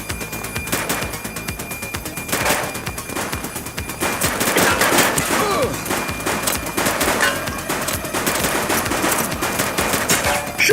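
Rapid bursts of gunfire in the police video game The Precinct, loud crackling volleys and repeated shots rattling close by throughout, growing denser midway, with no talk over them.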